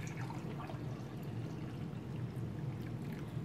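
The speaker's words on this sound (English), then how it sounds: "pour my cup of coffee" Hot coffee poured into a cup, a continuous close liquid stream that flows steadily for the whole few seconds without talking.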